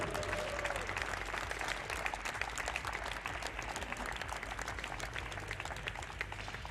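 A crowd applauds a bronze medalist from host nation Norway at a 10m vision-impaired prone shooting European championship in Hamar, with steady, dense clapping that continues evenly throughout.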